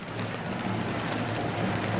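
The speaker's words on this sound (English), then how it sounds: "they come onto the Westpac Stadium in steady and driving rain" Steady, driving rain pours over Westpac Stadium in Wellington before an All Blacks versus Ireland rugby match, a dense, unbroken hiss that holds at an even, fairly loud level throughout.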